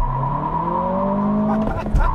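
A turbocharged 2023 Acura Integra A-Spec accelerates hard from a standstill, its engine note rising steadily through a gear. Near the end a brief tire squeal and a shift-like jolt break the note, with the car heard from inside.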